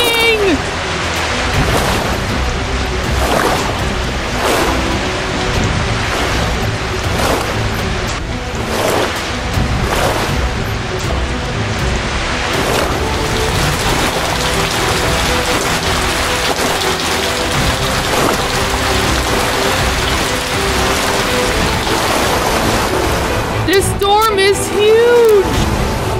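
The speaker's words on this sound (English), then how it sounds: "A storm is coming!" Steady rain pours through a stormy scene in a Thomas and Friends cartoon, with low rumbles of thunder beneath it and music and voices running over the top throughout.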